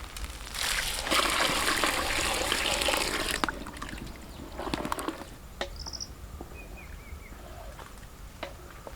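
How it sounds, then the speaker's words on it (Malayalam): Chicken stock is poured into soaked rice for alfaham mandi, a steady close splashing gush for a few seconds, then fainter trickles and scattered light knocks as it settles. "അപ്പോൾ ഇനി നമുക്ക് ഇതിനകത്തൊരു ചിക്കൻ്റെ സ്റ്റോക്ക് ഒഴിച്ച് കൊടുക്കാവേ"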